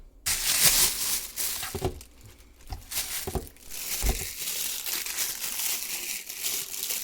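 New pressure cooker packaging being unpacked: bursts of loud crinkling and crunching plastic and paper, close up and irregular, separated by brief quieter pauses.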